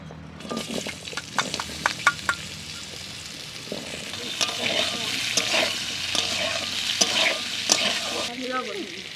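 Potatoes fry in hot oil in a pan, being stirred with crisp scraping strokes and clatters over a continuous close sizzle, in a home kitchen where magur fish has just been fried.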